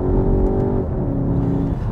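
A Skoda Octavia RS engine pulls hard in manually selected second gear, a loud, steady revving drone with rising harmonics that runs unbroken throughout, heard from inside the car.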